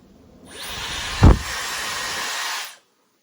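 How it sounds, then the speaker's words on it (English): A Dyson Supersonic hair dryer starts up with a rising whoosh and runs as a steady, high-pitched airy whine, with a brief thump partway through, then shuts off. "it's obviously very different noise to a typical hairdryer"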